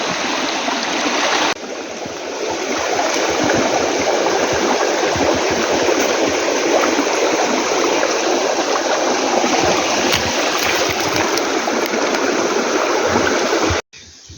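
Loud, continuous rushing and gurgling of spring floodwater flowing across a forest floor, steady throughout with no voices.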